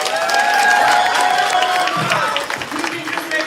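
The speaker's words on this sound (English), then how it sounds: "So give them one more round of applause." An improv comedy audience breaks into loud applause mixed with cheers and shouts, a dense roar that peaks early and then eases slightly, close and full.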